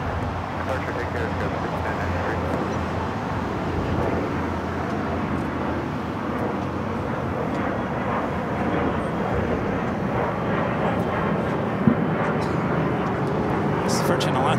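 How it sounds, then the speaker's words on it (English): A Virgin Atlantic Airbus A350-1000 arriving at Los Angeles from London Heathrow, its jet roar steady and fairly loud across the whole stretch, with wind noise mixed in and a voice talking over it. "This is Virgin Atlantic Flight 7 coming in from London Heathrow at A350-1000."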